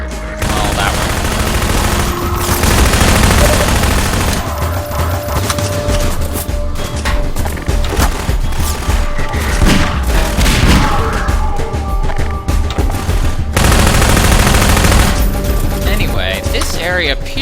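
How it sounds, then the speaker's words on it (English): A firefight on the docks in the video game Minerva: Metastasis, with dense bursts of gunfire and booming shots, loud and close, in several heavy volleys with short gaps between them. "big ol' firefight out on the docks here, where you can observe my lack of skill with the Magnum"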